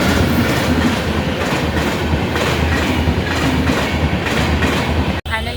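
Train rolling along railway tracks close by, a loud steady rumble with rhythmic clickety-clack of wheels over rail joints running throughout, ending in a sharp click.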